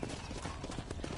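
Horse hooves clip-clop steadily on the ground in the video game Red Dead Redemption, a quick even rhythm of muffled hoofbeats in a dense, quiet wash of game ambience.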